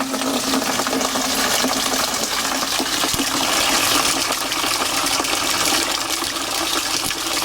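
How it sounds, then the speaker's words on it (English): Water gushes steadily into a ferment tank at a permaculture site, a continuous loud rushing splash close by for the whole stretch, with no talk. "So I began to do the watering of the ferment tank."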